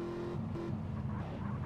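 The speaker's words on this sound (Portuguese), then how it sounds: "Olha o barulho dos carros, velho." Cars driving in the game GTA San Andreas produce a low, steady engine drone with a brief tonal hum, moderately faint and continuous, with no talking.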